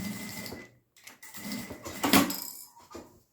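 Sewing machine running wide basting stitches to fix a lining to the main fabric of a trapeze-shaped cosmetic pouch, in short close bursts of whirring with brief pauses between.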